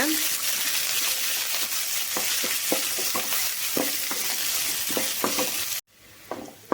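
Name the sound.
onions, curry leaves and green chillies sautéing in pan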